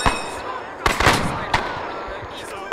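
Arma 3 gunfire crackles in a few sharp bursts: a cluster of shots near the one-second mark, then isolated cracks, fairly close and loud over a background of game noise.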